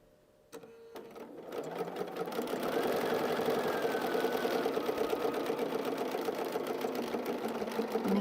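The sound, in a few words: sewing machine sewing quilt seam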